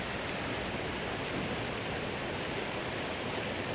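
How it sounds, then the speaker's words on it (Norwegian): Water runs steadily in a fountain in central Oslo, a continuous even splashing rush without pauses, with no voices. "Vannet I fontena renner sånn tålelig jevnt og fint."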